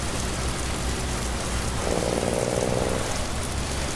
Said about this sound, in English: And of course it is raining on.